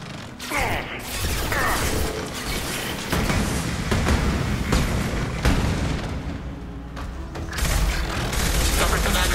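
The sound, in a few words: defensive turret firing in the video game Mass Effect 2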